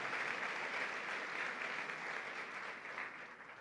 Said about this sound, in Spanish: Fuerte el aplauso a nuestro Señor y Salvador Jesucristo